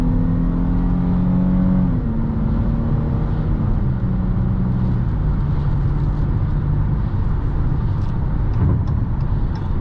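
A 2023 Dodge Challenger SXT accelerates from inside the cabin, its loud engine rising in pitch through a gear, then settling into a steady drone with road noise.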